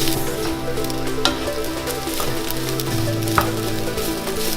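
Rice and chili-reddened kimchi sizzle and fry in a pan, a dense continuous crackle with occasional sharp ticks and stirring scrapes, loud and close, with no voices.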